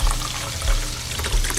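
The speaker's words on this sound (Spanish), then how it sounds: "un balde de agua bendita con tréboles cayó sobre él" A bucket of holy water with clovers tips over and splashes down, a steady rushing pour of liquid lasting over a second with a few heavier low thumps beneath the spray.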